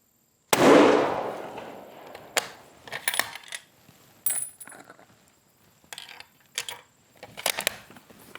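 A deer rifle fires once, a sharp loud crack with a long decaying tail, followed by several fainter clicks and metallic clatters, like brass or the bolt being worked, spaced over the next seconds.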